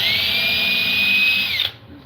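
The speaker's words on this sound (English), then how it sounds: "This is called pre-drilling" A power drill whines steadily as it pre-drills a small hole in wood for a screw, loud and close, running evenly for about a second and a half before stopping abruptly.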